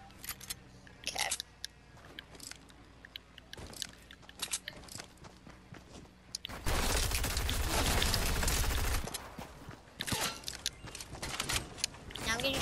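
Gunfire in a shooting video game, scattered sharp shots followed by a dense two-second barrage of rapid fire, loud and close, with a player talking over the scattered shots.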